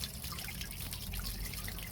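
Flush water drains out of a cleaned barrel keg after home brewing an Irish stout, a steady splashing trickle that runs continuously and fairly loud, with no voices.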